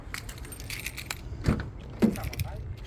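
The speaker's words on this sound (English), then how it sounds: "So a bunch of spare keys with this one as well" A bunch of spare keys for a 2017 Toyota HiAce Commuter van jangling in a hand, a few metallic rattles and clinks with two sharper jingles, close and fairly quiet, with someone talking.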